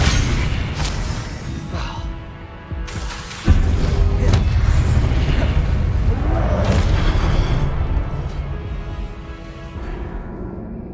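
Spell effects in Hogwarts Legacy, Expelliarmus and Leviosa, land as booming thuds and bursts, with one sharp, heavy impact partway through followed by sustained rumbling magical noise.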